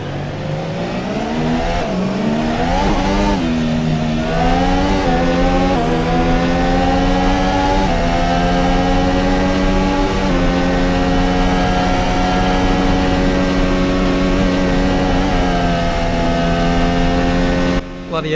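F1 2021 race car engine in the Assetto Corsa racing game at Spa, a loud high-pitched whine that rises and falls through gear changes, running steadily throughout with no one talking.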